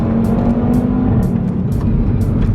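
Stage 1 tuned 2018 Audi RS3 hot hatch, 510 bhp, its exhaust droning loudly and steadily under load while driving, a deep continuous roar with no pauses.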